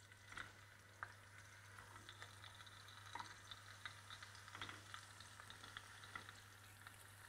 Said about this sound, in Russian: В разогретую с маслом жаровню кладем перец.